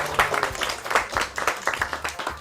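A crowd claps steadily for a couple of seconds, brisk applause with a few voices mixed in.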